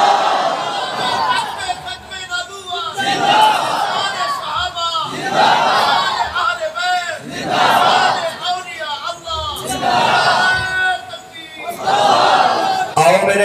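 A loud crowd at a Punjabi-language religious gathering shouts slogans in rhythmic call-and-response bursts roughly every two seconds, with voices filling the gaps between chants.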